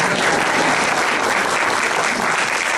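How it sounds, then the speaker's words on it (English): Loud, dense audience applause at a youth awards ceremony, a continuous wash of many hands clapping at an even level throughout. "Clap away, she's wonderful."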